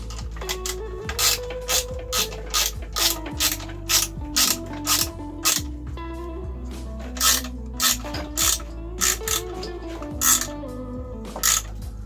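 A ratchet clicks in steady rhythmic bursts while tightening a rear screw on the original exhaust of a Peugeot 103 moped, each crisp series of pawl clicks close and loud over a low steady hum.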